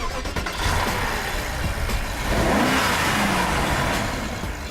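A BMW 6 Series with a 4.4 litre twin-turbo V8 revs up loudly and close, its note rising in a sweep midway before settling back into a strong, sustained roar.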